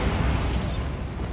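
The Bombarda spell in Hogwarts Legacy lands as a loud, rumbling blast with a brief crackling burst on top that fades into a lingering low roar.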